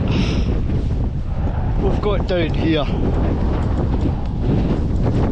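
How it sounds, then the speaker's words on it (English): Near-gale coastal wind on a brisk morning at Mull of Galloway rushes and rumbles across the microphone without letup while a person speaks briefly partway through. "It's still very windy"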